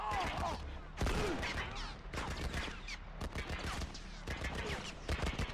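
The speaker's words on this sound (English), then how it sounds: "Look what they shooting at us with!" Rapid gunfire from The Last of Us video game rattles in repeated quick bursts under someone talking over it, fairly quiet and sustained throughout.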